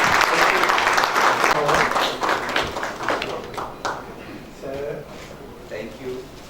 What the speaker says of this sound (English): So please, a big round of applause to Mr.